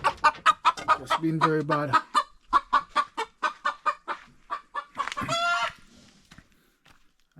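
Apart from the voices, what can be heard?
rooster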